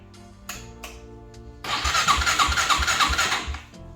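An engine cranks over loudly and close by after a worn-through starter harness wire was soldered and repaired. A few faint clicks come first, then about two seconds of steady, rhythmic starter churning that stops without the engine catching.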